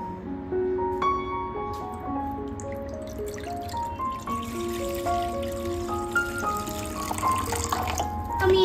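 Water pours steadily into a kadai (cooking pan) with a continuous splashing wash, set beneath louder background music carrying a melody.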